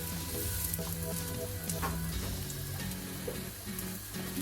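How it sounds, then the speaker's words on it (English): Homemade fish cakes fry in shallow oil, giving a steady close crackling sizzle with small pops and occasional soft stirring or turning sounds. "once they're frying, you want to check every so often"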